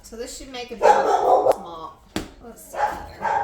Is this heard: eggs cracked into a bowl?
no